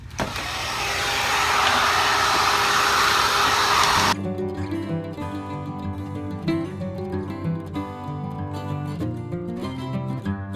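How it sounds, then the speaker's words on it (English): A hair dryer blows steadily on painted frames for about four seconds, a loud broadband whoosh that then cuts off abruptly, giving way to quieter tonal background sound. "I'm gonna set this aside and blow dry these again."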